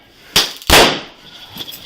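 A taser firing and gunshots going off inside a hospital room during an arrest: two sharp, loud cracking blasts close together, followed by a fainter pop, with a lingering noisy tail.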